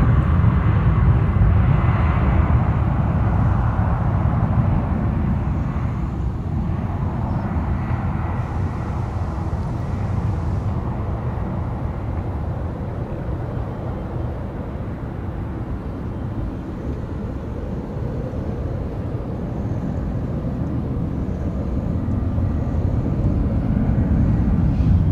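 A Boeing 747 jet taxis on a runway at SFO, a loud, steady engine roar and rumble that holds for the full stretch with little change, heard from a distance with no talk.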